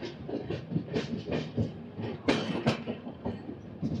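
Special train on the Chennai Egmore to Visakhapatnam route passing Royapuram, rhythmic clickety-clack of wheels over rail joints heard from inside, with sharper jolts partway through.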